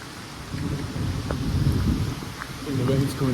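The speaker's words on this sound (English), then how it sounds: "I think the rain's coming again." Rain and thunder outdoors in Mlini, Croatia, as a steady wash of rainfall with low thunder rumbles building through the clip, fairly loud and close, with no voices.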